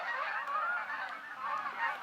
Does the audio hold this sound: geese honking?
yes